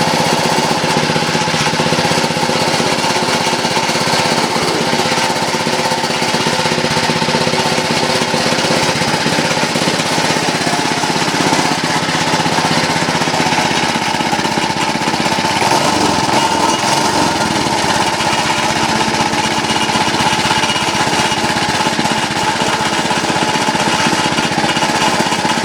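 An old Reo small engine, just repaired and running on its first fill of gas, chatters and roars continuously at a loud, steady idle from close by, with no voices.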